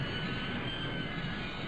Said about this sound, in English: Oh, that's your train.